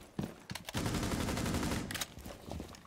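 Rapid automatic gunfire from an enemy player, a suspected cheater, in an online shooter match. It rings out as a loud, sustained burst that fills most of the moment, with a few shorter bursts before and after.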